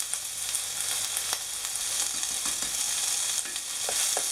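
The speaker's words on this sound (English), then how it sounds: "Saute this for about 5 minutes, and you want to stir it occasionally." Onions, peppers and garlic sautéing in a casserole dish give a steady, moderately loud sizzle with occasional sharp stirring clicks and scrapes; no voices.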